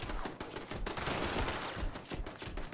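Rapid bursts of gunfire aimed at a turret in the video game Fallout 76, dense and continuous with sharp repeated reports throughout.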